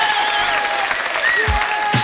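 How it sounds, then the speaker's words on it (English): Audience applause in a live 1987 television comedy studio, a short loud burst of clapping running throughout, with a couple of low thumps and faint tonal sounds over it. "Start the clap machine"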